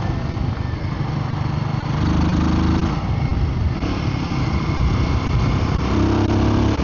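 A Royal Enfield Guerrilla 450 motorcycle drones steadily while being ridden, with loud wind rush over the engine and brief shifts in pitch as the revs change.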